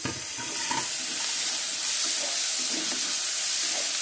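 Semiya upma with vegetables, curry leaves and peas sizzles in oil as it is stirred in a pan, a close, continuous frying hiss broken by soft scraping.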